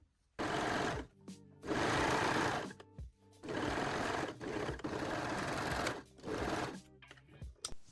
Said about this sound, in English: Then pin and sew the center front seam.